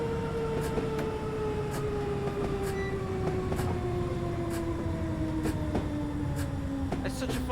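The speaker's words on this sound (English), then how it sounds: "This train's great to drive." A London Underground District Line train running in Train Simulator 2019 gives a loud steady rumble with a whining motor tone gliding slowly downward and regular rail clicks from the wheels, while someone talks over it.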